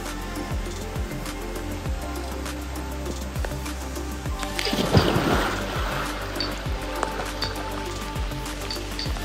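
Steady rain and a rushing waterfall at Balishira resort in Sreemangal make a continuous dense wash of water noise, with a louder splashing surge midway and scattered drips and taps throughout.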